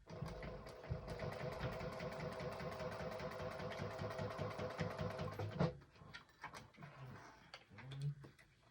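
A sewing machine runs close by at a rapid, even stitching rhythm while back stitching a small fabric wristlet, then stops with a few clicks and handling noises.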